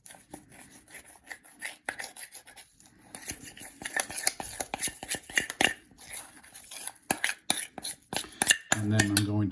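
Bread starter mixture stirred in a bowl, with rapid, irregular scraping and clinking of a utensil against the bowl, close and fairly loud, building toward a denser clatter at the end.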